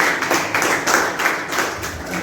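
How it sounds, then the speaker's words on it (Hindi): Loud, dense applause fills a crowd at a coaching institute opening ceremony to welcome a maths teacher, steady clapping from many hands throughout with no voices on top. "जोरदार तालियों से इनका स्वागत कीजिए।"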